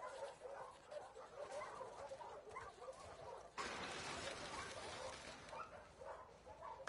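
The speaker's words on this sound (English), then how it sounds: "Hey, you crazy dog." A dog in the video game The Last of Us Part II yips and whimpers in a string of short, excited sounds, faint and somewhat distant, with a brief louder rustling burst midway.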